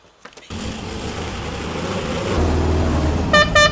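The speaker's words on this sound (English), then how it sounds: "Hey, look, there's a car coming." A car drives up in a low-budget 2005 zombie comedy film, its engine rumbling steadily before two short, bright honks of the horn sound near the end, with no talking.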